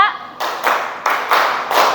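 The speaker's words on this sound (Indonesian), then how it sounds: "Tepuk 1, tepuk 2, tepuk 3, tepuk 4, tepuk 5" A class of children claps hands in rhythm, a run of about five sharp group claps spaced roughly a quarter to half second apart, close and fairly loud, with a voice at the very start.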